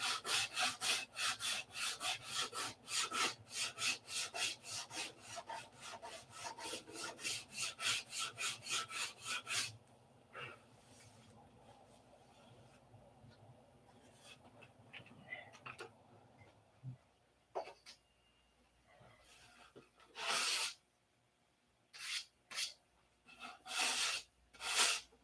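Hand sanding on a wooden P-47 turtle deck: rapid rhythmic rasping strokes at first, then a quieter pause, followed by a few scattered scrubbing bursts, close and fairly faint.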